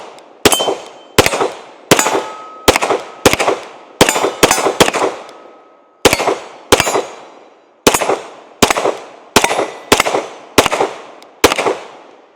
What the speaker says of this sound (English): So let's go ahead and take a few more shots on it real quick.